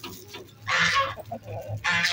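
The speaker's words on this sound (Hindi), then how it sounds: "अपनी मुर्गियों को भी दाना और अपनी नैन्सी के बच्चों को और नैन्सी को भी" Chickens clucking in short bursts close by, with a few louder squawks breaking through.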